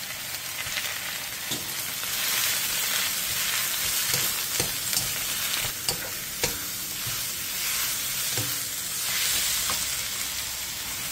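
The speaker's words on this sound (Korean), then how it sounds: "팬에 기름을 두른 뒤 씻은 묵은지와 설탕 3분의 1 스푼, 다진 마늘 반 스푼을 넣고 센 불에서 5분 정도 볶아주세요" Loud, continuous sizzling as aged kimchi with sugar and minced garlic is stir-fried over high heat in an oiled pan, with periodic scraping stirs of a utensil cutting through the hiss.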